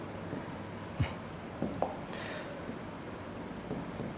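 Pen or marker writing out a maths calculation on a board or paper, faint scratchy strokes with a few small taps, alone in a quiet room.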